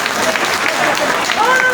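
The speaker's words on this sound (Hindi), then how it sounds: "आप सभी लोग तालियों की गड़गड़ाहट से इनका स्वागत करो।" Applause from a gathered crowd at a political party joining event, a steady wash of clapping lasting under two seconds with voices mixed in.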